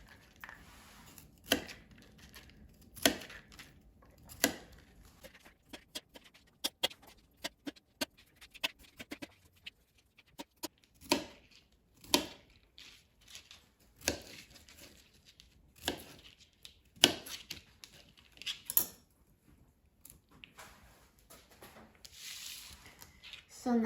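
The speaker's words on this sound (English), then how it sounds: "So I'm going to cut them into smaller pieces so they cook quicker." A knife cuts cauliflower into smaller pieces on a board, giving sparse, irregular soft thuds and taps with quiet gaps between them, close and faint.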